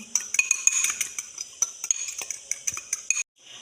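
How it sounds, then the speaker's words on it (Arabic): Egg and a little vinegar stirred briskly in a bowl: quick, bright metallic clinks and scrapes of a utensil in a rapid uneven rhythm, close and fairly quiet, ending abruptly. "غنعمل لهم واحد الفص ديال البيض مع شويه ديال الخل، غنحركو مزيان"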